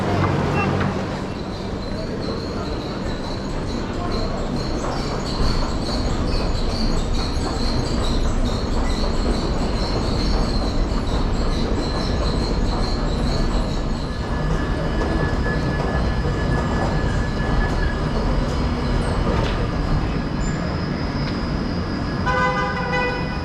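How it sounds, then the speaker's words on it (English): A train at a station platform on a Leeds-bound evening service, with a continuous rumble and rail noise over about twenty seconds, brief tonal horn-like sounds and a few distant voices in the busy station background. "the time soon comes to head through to the platform to await the arrival of our train"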